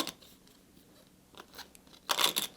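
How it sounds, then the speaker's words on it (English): A stack of board game location cards for Shadows of Brimstone being shuffled, with a faint riffle near the start and a brief, louder crisp burst of card noise at the end. "So we'll give our town location stack a shuffle."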